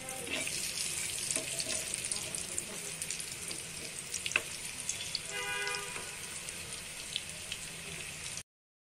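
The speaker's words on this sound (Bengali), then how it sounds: "পাকোড়াগুলো অনেক মচমচে করে বাদামি কালার করে ভেজে নিলাম।" Cabbage and egg pakoras fry in hot oil until crisp and brown, giving a quiet, steady sizzle with occasional faint pops and clinks that runs for several seconds.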